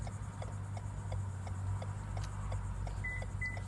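A 2017 Toyota Highlander gives two short, clear beeps near the end while a key is programmed, over a steady low hum and a run of soft, regular ticking clicks.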